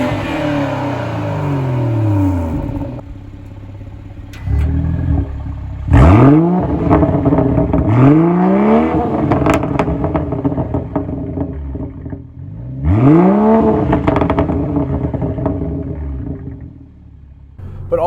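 A 2018 BMW 340i engine revs loudly with its exhaust valves open, rising in several repeated sweeps and falling back between them, close and with no talk.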